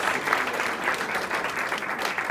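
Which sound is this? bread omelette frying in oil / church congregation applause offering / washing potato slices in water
church congregation applause offering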